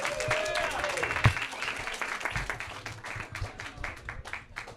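Audience at a roast battle comedy show applauding the competitors after the winner is named, steady mid-distance clapping with scattered cheers and a voice heard briefly at the start.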